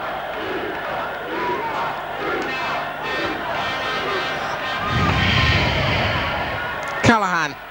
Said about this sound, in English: The name of the scorer and the crowd's response